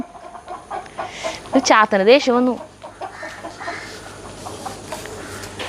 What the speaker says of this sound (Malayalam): കോഴി പൊട്ടിച്ചിരിക്കുന്നു